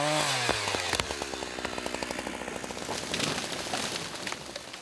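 A chainsaw buzzes steadily as it fells trees in a Russian winter forest, its pitch dipping and rising under load, heard close and alone.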